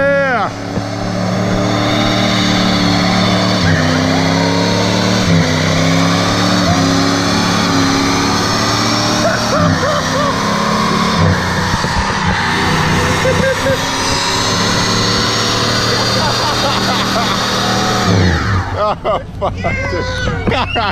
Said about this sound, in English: He's hucking a burnout in his Caprice.